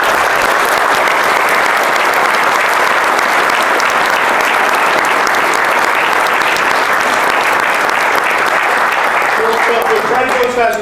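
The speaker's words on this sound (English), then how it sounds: "Guys, just a round of applause for the engineers." Loud, sustained applause from a crowd at a car factory event honoring engineers, steady dense clapping for about ten seconds before it starts to thin.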